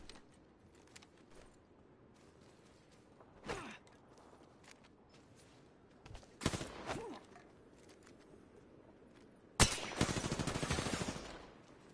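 An Alternator SMG fires in a video game, first a few isolated shots, then a short burst, and finally a loud rapid stream of automatic fire near the end, with quiet mechanical creaks between.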